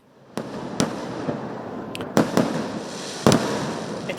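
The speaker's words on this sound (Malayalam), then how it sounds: "പാറമേക്കാവിന്റെ സാമ്പിൾ വെടിക്കെട്ട് തുടങ്ങിയിരിക്കുന്നു" Paramekkavu's sample fireworks display at Thrissur sets off several sharp, loud bangs at irregular intervals over a continuous crackling, rumbling din of exploding shells.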